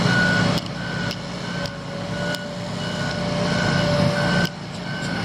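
A dump truck at a construction site sounds a loud, regular series of reversing beeps, evenly spaced over a constant diesel engine rumble.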